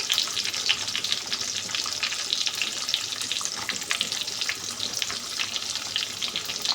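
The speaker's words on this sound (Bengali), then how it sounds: "এই মুহূর্তে দিয়ে দিলাম পেঁয়াজ কুচানো পরিমাণ মতন" Chopped onions go into hot oil seasoned with bay leaf and cumin, frying with a dense, continuous crackling sizzle that stays close and even, with no talking over it.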